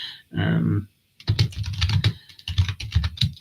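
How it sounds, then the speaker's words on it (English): Rapid clattering keystrokes on a computer keyboard during a live phone-in show, close and fairly loud, in irregular bursts after a brief sound and pause at the start. "excuse me for typing because I am reacting live to certain things"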